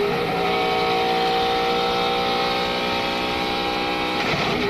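Michael Waltrip's race car engine roars in a loud, sustained high-rpm drone from an onboard camera, steady and dense, easing slightly near the end.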